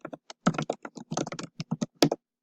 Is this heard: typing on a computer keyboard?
yes